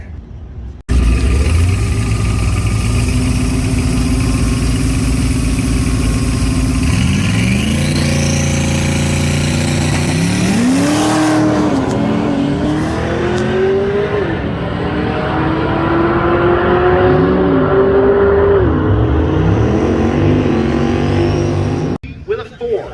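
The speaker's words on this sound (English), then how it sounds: "Well, at least she left the line, but it was slow." Drag race car at Tulsa Motorsports Park during Race Week launching off the line, a loud sustained engine roar that rises in pitch as it pulls away, with shifting tones and crowd or announcer noise beneath throughout.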